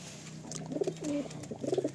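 Several tournament high-flying pigeons coo in close, throaty bursts that rise and fall in a loose rhythm, clear and alone against a faint steady hum.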